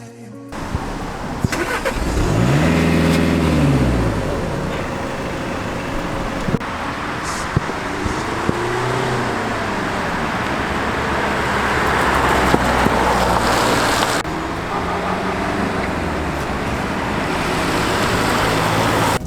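A Volkswagen Golf rolls through a parking manoeuvre on its parking assist system, its engine rising and falling at low speed with a steady hum over road and traffic noise and a few light clicks.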